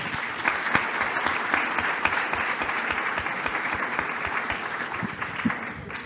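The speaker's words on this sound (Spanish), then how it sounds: "la recibimos con un fuerte aplauso, por favor" A seminar audience at a national public budget conference gives a sustained round of applause. Many hands clap in a thick, even roar that carries on for several seconds, with a few sharper claps standing out.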